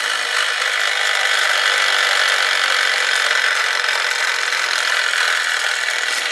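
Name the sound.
toy car friction motor engine noise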